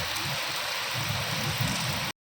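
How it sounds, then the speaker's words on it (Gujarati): Unseasonal rain falling in Bhavnagar, a steady, close wash of pouring water and drops on surfaces, continuous until it cuts off abruptly at the end. "ચાલુ વરસાદે આપણે અત્યારે વ્લોગ ઉતારી રહ્યા છીએ"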